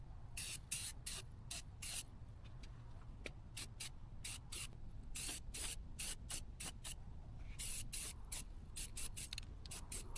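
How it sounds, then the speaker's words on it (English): A spray can lays a black base coat onto a YZ85 electric dirt bike frame in a rapid series of short, sharp hissing bursts, close and fairly loud, with brief gaps between passes. "we're going to spray our black base coat on it real quick"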